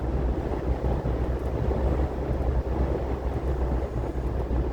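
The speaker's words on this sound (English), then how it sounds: "And it is windy." Strong wind buffets the microphone in a constant low roar, gusting unevenly with no other sounds breaking through.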